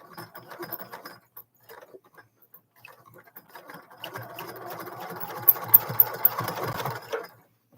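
A sewing machine stitches a zipper pouch in short rapid bursts, then settles into a longer continuous run, its motor buzzing and needle pattering close by.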